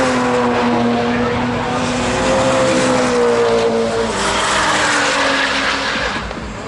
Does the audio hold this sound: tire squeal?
yes